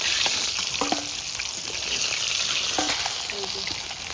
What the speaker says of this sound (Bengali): একদম কড়া করে ভেজে নিয়েছি।